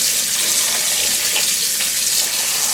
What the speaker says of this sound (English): All right, we'll give this all a rinse.